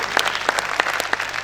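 A seminar audience at an expo in Lahore claps together, a dense burst of applause that carries through the whole short stretch, loud and close, with no voices over it.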